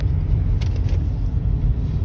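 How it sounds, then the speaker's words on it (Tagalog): Dense road traffic moves past, a steady, loud low rumble of car engines and tires that continues without a break. "Hanggang dito, traffic pa rin."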